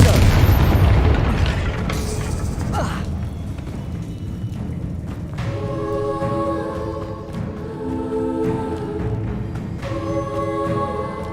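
Confringo spell explosions in the video game Hogwarts Legacy: a loud booming blast opens, followed by further bursts and sustained rumble, with game music tones and a voice briefly heard.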